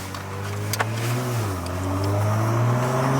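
Toyota A90 Supra fitted with a new loud exhaust drives along, its deep engine drone holding steady and then rising as it pulls, heard from inside the car without talking.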